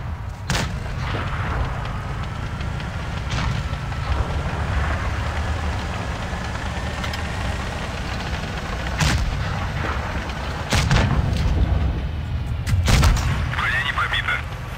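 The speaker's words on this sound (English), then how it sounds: "I switched over to the premium round and bang, that goes straight in, no problems." A tank cannon in World of Tanks fires a premium round, with several sharp booming shots spread across the stretch over steady rumbling battle ambience and engine noise.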